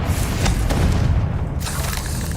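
A Confringo spell explosion from Hogwarts Legacy lands as a loud, sustained booming rumble lasting a couple of seconds, with no voices.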